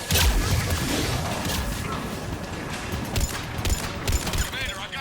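Sci-fi combat gunfire in Mass Effect 3, a dense continuous fusillade of shots and impacts with deep booms underneath, loud throughout with brief sharper bursts toward the end.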